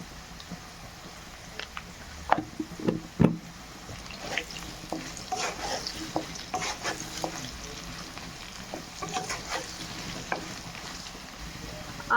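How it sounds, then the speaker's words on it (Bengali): Potato pieces seasoned with salt and turmeric sizzle steadily in hot oil, with scattered crackles and a few louder stirring clatters early on, close up and with no talking. "আলুগুলো এবার তুলে নেব, হয়ে গেছে হালকা করে ভাজা"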